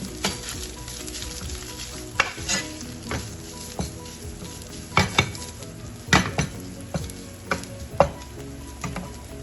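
Chicken fries in a pan with steady close sizzling, broken up by sharp clinks and scrapes as it is stirred, with no talking.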